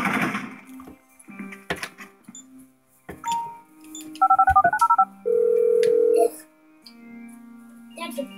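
Telephone keypad dialing, a rapid run of short touch-tone beeps followed by a longer steady tone, with scattered voices and bumps around it.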